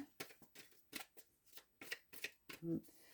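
Close, quiet tarot card shuffling in a steady series of crisp riffling bursts, with a soft voice murmuring between them.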